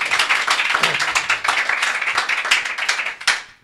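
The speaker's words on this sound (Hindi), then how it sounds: "जी एक ताली बजाकर फिर से" A congregation claps together after a prayer at a church gathering, with a dense, steady burst of many hands that rings on for several seconds before ending abruptly.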